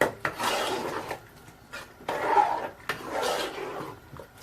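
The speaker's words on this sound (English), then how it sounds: "We stir." A spoon scrapes and knocks against a cooking pot while a Gambian chicken and groundnut stew is stirred, giving close, rough bursts of scraping separated by short pauses.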